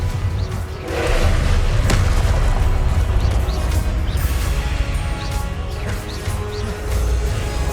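Confringo blasting spell detonations in Hogwarts Legacy on PS5, several heavy booms and crashing impacts landing one after another over rumbling combat noise, with no talking.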